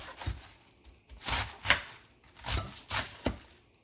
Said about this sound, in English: So I'm just going to cut it lengthwise.